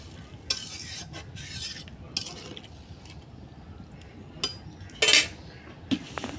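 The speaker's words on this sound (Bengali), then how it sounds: "তখন মাছটি দিয়ে জিরাটা দিয়ে আমি একটু হালকা লাড়া দিয়ে দিই।" Fish with cumin frying in fish oil in a pan, stirred lightly: a low sizzle underlies scattered scrapes and metallic clinks of a utensil against the pan, with one sharper clatter near the end.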